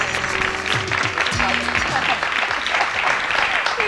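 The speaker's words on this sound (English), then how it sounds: "Let's give Vanessa a round of applause." Applause from a studio audience, steady close clapping throughout with a voice speaking over it.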